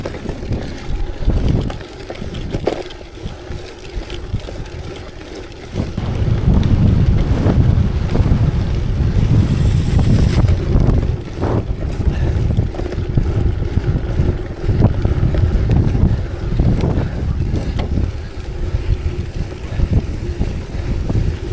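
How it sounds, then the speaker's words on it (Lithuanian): A strong crosswind blasts a rider during a gravel bike race at Rėkyva, heavy buffeting wind noise that rises sharply after a quieter start and stays loud and gusty throughout. "čia labai stiprus šoninis vėjas"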